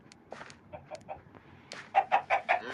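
A chicken in the video game Minecraft clucks in a series of short, separate clucks, faint at first and then louder and quicker in a close run of four near the end.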